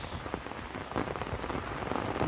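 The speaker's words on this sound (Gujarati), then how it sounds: "વરસાદ ભાઈ કાલનો ચાલુ છે" Rain patters on a nearby surface in Kabaraka village, Dwarka district, with distinct drops tapping irregularly over a steady wet hiss.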